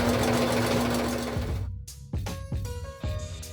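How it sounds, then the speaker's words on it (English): Sewing machine stitching a cloth face mask, a close, fast mechanical whir running steadily before breaking into several short stop-and-start bursts. "Busy sewing my 67th mask."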